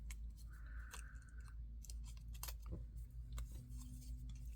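Small snips of scissors cutting paper shapes for a book-themed journal, quiet and close, a few irregular crisp cuts over a low steady background hum.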